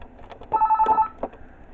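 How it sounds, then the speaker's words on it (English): A telephone rings in the horror video game Tubbyland Rebaked, a single short electronic trill of rapid pulsing beeps lasting about half a second, fairly close and clear amid faint background ambience. "Oh, I get a phone call."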